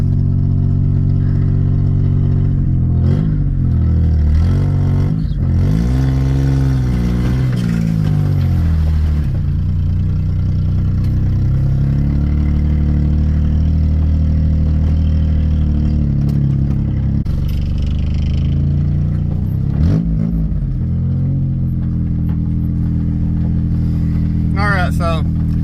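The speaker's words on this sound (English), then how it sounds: "And then fire it up." An old blue Metro car with over 500,000 miles on a rebuilt engine, left sitting since January in the bush, cranks for several seconds, catches and settles into a steady, loud idle while voices talk over it.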